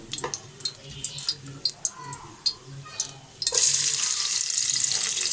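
Chopped onion hits hot soybean and mustard oil with bay leaf, cloves, cardamom and cinnamon for chicken bhuna khichuri, giving a sudden loud, sustained sizzle after a few seconds of light clicks and taps.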